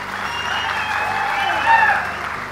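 An audience claps steadily at a gathering, broad and continuous, with a voice speaking over it and a faint whistle-like tone near the end.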